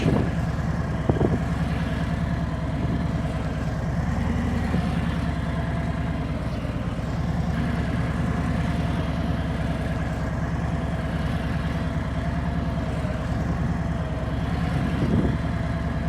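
A Harley-Davidson motorcycle's engine drones steadily and loudly while the bike is ridden and leaned through a turn, a continuous low rumble with no speech.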